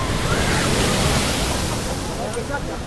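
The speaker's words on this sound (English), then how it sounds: "Waves over 10 meters high hit a coastal town in Spain." Huge waves over ten meters high crash onto a coastal town in Spain, producing a loud, continuous roar of surf and spray. The wash is broad and heavy and does not let up.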